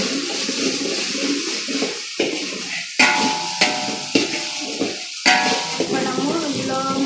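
Ground chili paste frying in a pan for kuey teow goreng, crackling and sizzling steadily with sharp scrapes and clatters of a utensil stirring at intervals, close and fairly loud throughout.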